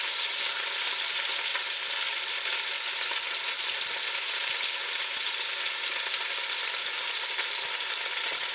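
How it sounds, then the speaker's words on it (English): Meat for goulash searing in a pot, a loud, dense, unbroken hiss of hot fat sizzling close up for several seconds with no voices. "I do this so that it doesn't start cooking. It has to sear."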